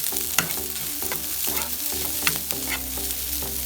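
Rice and beans for gallo pinto are stirred in a hot pan, close and lively, with spatula scrapes and knocks over a bright sizzle, and no one speaking.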